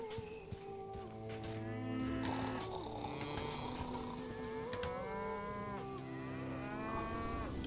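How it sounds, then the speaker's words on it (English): Several cows moo in overlapping, drawn-out calls in the video game Songs of Syx, loud and close, with a steady game-like ambience underneath and no talking. "who the heck is mooing like that?"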